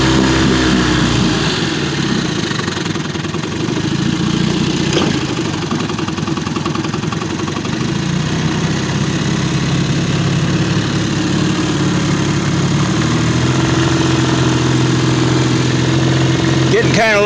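A 1953 Elgin 5.5 hp outboard motor runs steadily throughout, a loud continuous buzzing drone with a slight pitch rise near the end, while someone talks faintly over it.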